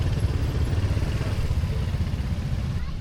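An ATV engine idling at a getaway spot in Norzagaray, Bulacan, a steady low rumbling drone that holds evenly and close with no clear talk over it.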